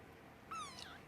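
A single 16-day-old foster kitten gives a short, thin, high meow, faint against a quiet room hiss.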